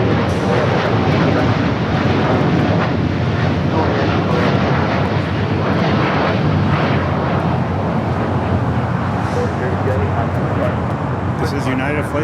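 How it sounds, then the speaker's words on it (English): A nine-year-old United Boeing 787 Dreamliner jet roars at a busy airport, a loud, steady, broadband engine rush that fills the whole stretch without letting up. "This is United Flight 32 going to Tokyo Narita. 9-year-old Dreamliner 9."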